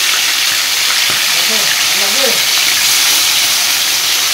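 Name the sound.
fish frying in oil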